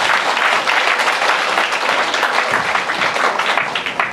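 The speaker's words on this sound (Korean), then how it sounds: "큰 박수로 환영해 주시기 바랍니다" Loud, dense applause from a crowd at a Korean political party rally, greeting a party leader as he is introduced; steady clapping fills the whole stretch without pause.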